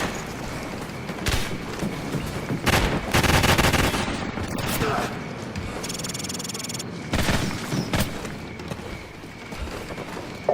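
Grenade blasts and rapid gunfire in Call of Duty 4: Modern Warfare on Xbox 360, loud and close, with dense bursts of shots, a heavy blast near the middle, and a sustained rattle of fire throughout.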